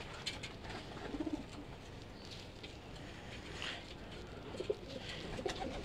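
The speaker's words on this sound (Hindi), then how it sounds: "ये है भाईजान वो इमामदीन कबूतर।" An Imamdeen pigeon coos softly in short low bursts, close by but faint over a quiet hiss of background noise, with no talking.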